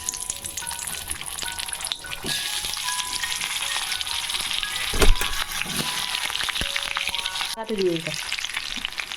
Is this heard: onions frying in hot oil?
yes